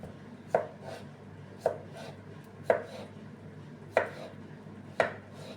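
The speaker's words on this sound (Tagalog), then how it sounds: "Slice na lang natin." A knife slices through cooked beetroot for a salad, five distinct cuts landing on a board at a slow, even pace, close and alone in a quiet kitchen.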